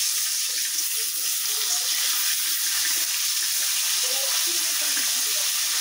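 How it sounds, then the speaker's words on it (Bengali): Katla fish frying in a pan, a continuous close hiss and crackle of oil with faint irregular spatters, steady and moderately loud. "এভাবে করে এখন আমি মাথাটা এপিঠ ওপিঠ সব দিক দিয়ে খুব ভালো করে ভেজে নিচ্ছি"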